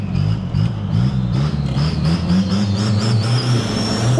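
An Isuzu turbo car accelerates hard under turbo boost, its engine note droning loud and steady with a rising whine on top. The sound holds continuously close up with no talk over it.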